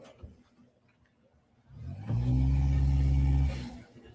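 A car engine revs hard for about two seconds, rising from quiet into a loud, close, low roar that holds, then eases off, with no talk.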